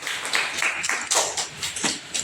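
Applause greeting an honored guest at a flag-hoisting ceremony held by a writers' group: scattered, uneven clapping from a crowd, moderately loud, with no talking over it.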